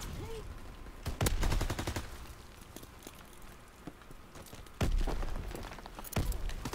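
Several short, loud bursts of MP40 submachine gun fire in Call of Duty WWII, rapid rattling volleys separated by quieter stretches of gameplay noise.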